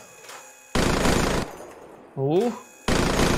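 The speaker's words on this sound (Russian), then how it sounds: "как реализована пушка Гатлинга в этой игре" Helicopter-mounted Vulcan Gatling gun firing in the military shooter game Squad, two long roaring bursts of very rapid fire plus the start of a third, loud and close, with a voice exclaiming between bursts.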